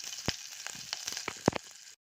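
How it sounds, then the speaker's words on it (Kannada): Mustard seeds and green chillies spluttering in hot oil during a tempering, heard as a quick run of sharp crackling pops over a steady sizzle, close up, with no talking. "ಇದೆಲ್ಲ ಸ್ವಲ್ಪ ಚಟಪಟ ಅಂತ ಸಿಡಿಲಿ."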